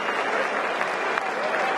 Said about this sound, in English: And quite rightly does Trent Boult get the applause